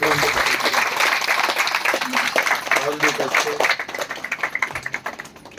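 Dense audience clapping at an indoor gathering honoring a couple expecting a baby, hearty and continuous, then thinning into scattered claps that fade near the end.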